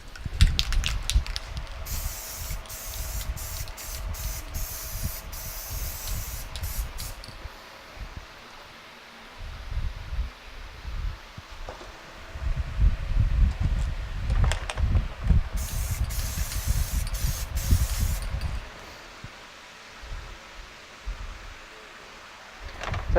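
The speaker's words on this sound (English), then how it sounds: "That last little bit of spray will, once this dries, it'll just make it nice and more weather sealed" Aerosol spray cans hiss in two sustained bursts, applied as a weather-sealing coat on Halloween craft props of skeleton bats and skulls, with quieter handling noise between sprays.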